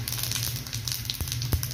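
Cumin seeds dropped into hot oil with garlic for a masoor dal tadka, giving a brief, steady close sizzle with a few soft crackles.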